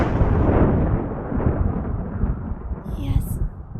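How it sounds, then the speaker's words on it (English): Deep rolling thunder from an approaching storm rumbles loud and continuous, with a brief faint higher sound near the end. "The storm is nearly here."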